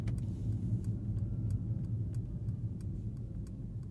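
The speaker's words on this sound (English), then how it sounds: "what does the turn signal sound like in the C63?" Steady, sharp ticks of a 2024 Mercedes-AMG C63 S E-Performance turn signal repeat at an even pace over a low engine rumble inside the car, crisp and close.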